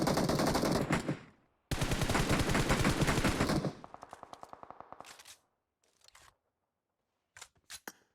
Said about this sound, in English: And them firing that gun made it easy for K9 to know that they are actually there.